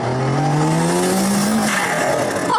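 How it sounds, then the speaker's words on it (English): A turbocharged car on a rolling road revs hard with a rising engine note, then its wastegate lets out a loud hissing whoosh, close and without talk. "Now that is what you call a wastegate wasting."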